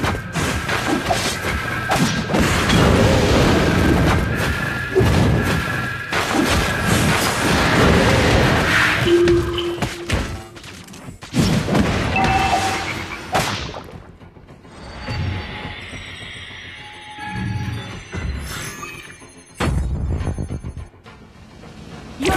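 Mobile Legends game action as a turret is destroyed, with loud thumping impacts, crashes and whooshing effects, plus ringing chimes, a dense burst of game sound that drops into sparser effects after a sudden cut.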